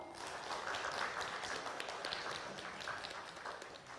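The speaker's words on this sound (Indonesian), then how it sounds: "Tepuk tangan yang meriah untuk paslon nomor urut 2." Lively applause rises for candidate pair number 2 at a Magelang 2020 mayoral debate, an even, continuous crowd clapping at moderate volume across the whole stretch, without any voices.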